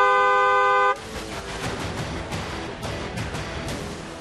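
A loud, steady car horn blares for about a second, then cuts off, leaving busy road traffic noise with faint horn toots in the distance.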